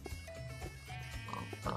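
Minecraft pig oinking in a few short grunts beneath steady game background noise, fairly faint and close by, with no talk over it.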